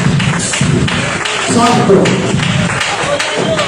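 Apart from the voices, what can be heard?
church congregation applauding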